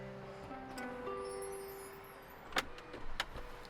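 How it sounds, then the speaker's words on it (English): Electric doors on an XPENG X9 seven-seat EV MPV close at the press of a button: a faint, steady motor hum, then a few soft clunks and latching knocks near the end, heard up close in a quiet cabin. "So I press this button and the doors close."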